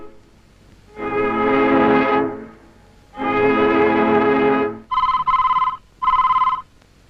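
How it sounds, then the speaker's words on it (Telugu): A telephone rings nearby in two long buzzing trills, then two shorter, higher electronic rings, with silence between each. "గోపి ఉన్నాడా అండి ఉన్నాడు గోపి ఫోన్"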